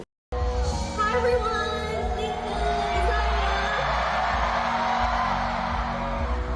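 A concert crowd screams in a loud, continuous roar that sits over music throughout and barely lets up.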